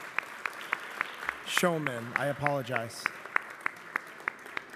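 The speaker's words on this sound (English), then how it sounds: "Let's give Xu Min a round of applause." Sparse applause at a New York City Council meeting, a few separate claps spaced out in a slow, uneven rhythm while a voice speaks briefly over them in the middle.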